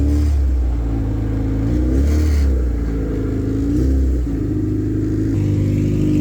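A car with a K-Series engine and a freshly fitted oil catch can drives a few blocks on city streets, its mid-pitched engine rumbling steadily and rising and falling with gear changes and throttle, loud and close throughout with no talking.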